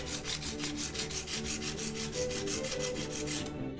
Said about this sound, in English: I don't know what grit sandpaper I'm using though. It's like a really like heavy grit.